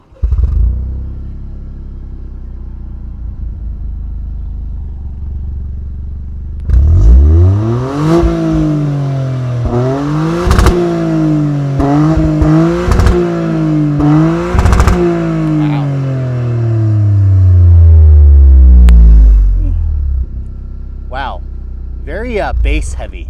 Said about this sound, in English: Let's go ahead and fire it up so you can hear what the engine sounds like.